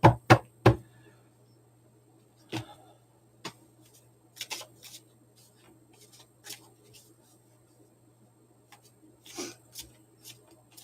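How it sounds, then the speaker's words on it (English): A few sharp knocks open, then scattered soft flicks and riffles of tarot cards being shuffled, with quiet gaps between, close to the microphone. "Give me a second to shuffle."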